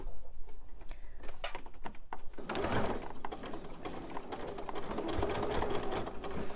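A sewing machine stitches a quarter-edge seam on a fabric purse, a steady close whir of rapid needle strokes running throughout without speech.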